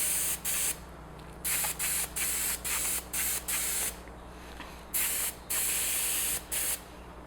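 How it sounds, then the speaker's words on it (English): An airbrush spraying black acrylic paint into narrow cracks, loud hissing bursts in short, uneven on-off pulses close by over a steady low compressor hum. "I'm going to go in with an airbrush and do a black acrylic paint in between these cracks"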